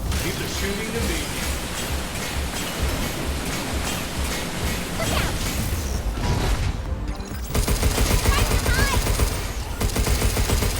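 Dense gunfire from Pragmata keeps up in heavy, noisy bursts that blend into a continuous roar of shooting, loud and close, with a voice briefly over it.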